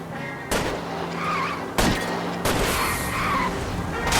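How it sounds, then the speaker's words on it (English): Gunshots fired at a fleeing car's tires in the video game L.A. Noire: three sharp loud cracks spaced over a few seconds over a droning car engine and skidding, with no talk. "I'll try to shoot out his tires."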